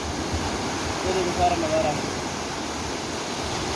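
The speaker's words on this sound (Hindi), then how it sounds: "सामने इतने गहरा पानी है और इतनी तेज़ी से जा रहा है" Deep, fast-flowing canal water rushes past a village in a steady broadband wash, with someone talking over it throughout.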